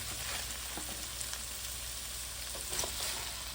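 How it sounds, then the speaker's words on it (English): Oil sizzles steadily in a hot frying pan, a constant crackling hiss with faint pops and a light clink of stirring, just before cabbage is added. "we're gonna let them go ahead and sizzle"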